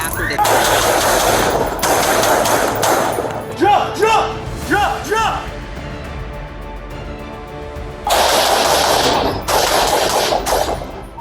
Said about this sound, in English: forcing one officer to fire